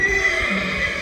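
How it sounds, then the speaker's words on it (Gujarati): A Kathiyawadi crossbreed horse neighs, a drawn-out, loud whinny sounding close by over the whole moment, with no talking. "ક્રોસિંગ બધું કાઠિયાવાડી ઘોડા છે."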